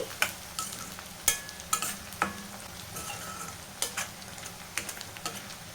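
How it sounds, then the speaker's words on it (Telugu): Onion, dried chillies and crushed garlic sizzle in a pan while a spoon scrapes and stirs them in sharp, irregular strokes over steady frying. "ఇప్పుడు దీంట్లోకి కచ్చాపచ్చాగా దంచుకున్న వెల్లుల్లి కూడా వేసేసి అయితే ఫ్రై చేసిద్దాం"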